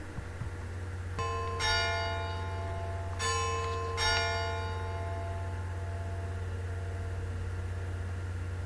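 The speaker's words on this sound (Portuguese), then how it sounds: "Barulho de sinos, não é?" Recorded church bells ring out in about four resonant strikes with long shimmering decays, over a steady low hum.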